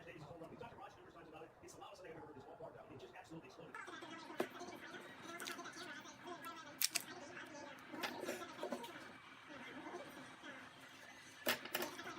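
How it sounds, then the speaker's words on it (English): Scissors snip through excess Velcro strip on a softball face shield visor, giving a few sharp, close cuts spaced several seconds apart amid softer handling rustle. "I cut the excess Velcro"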